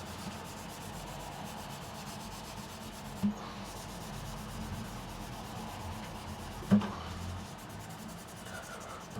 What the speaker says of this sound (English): What I'm going to do is give it a gentle rub.